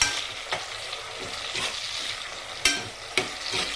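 Tomatoes frying in a hot pan with radish and mola fish, a steady sizzle broken by scraping stirs and two sharper knocks of the spoon against the pan.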